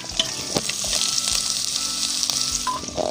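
Ginger sizzles as it goes into garlic already frying to a maroon colour for Kerala-style lemon pickle, a steady close hiss with small crackles and stirring clicks throughout.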